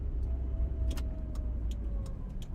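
A 1940s-style radio drama car driving effect: a steady low engine rumble with faint tonal hum and scattered high clicks, continuous and moderately quiet throughout.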